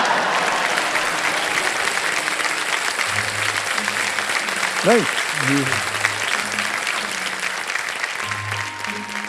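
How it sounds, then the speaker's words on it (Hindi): A TV studio audience on the quiz show Kaun Banega Crorepati claps in steady, sustained applause throughout, with a voice speaking over it. "बाकी सब लोग ताली बजा रहे हैं"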